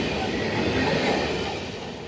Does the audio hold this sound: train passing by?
yes